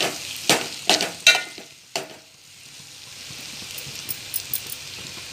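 Okra frying in a pan is stirred as lentil powder is mixed in, with several sharp scraping strokes early on, then a low sizzle and a few light taps, close by.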